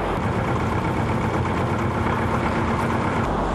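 Low, steady engine drone of a multi-wheeled flatbed hydraulic trailer carrying a bridge tower head on a construction site, a continuous rumble with a faint whine, unbroken and fairly loud throughout.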